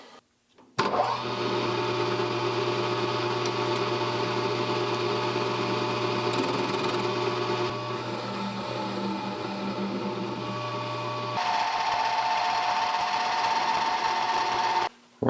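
Steady machine whine with a constant mechanical hum as a metal lathe faces a metal workpiece, the cutting tool grinding continuously, shifting in pitch partway through; no talking.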